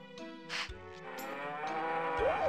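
Cattle in a farming video game moo several times, with short lowing calls over a soft musical background, fairly clear and close, and no talking.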